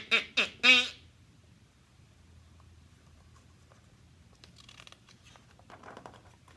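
A duck gives three quick, loud quacks right at the start, followed by quiet scuffling and faint rustles.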